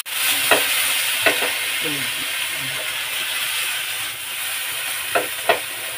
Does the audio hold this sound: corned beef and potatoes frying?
yes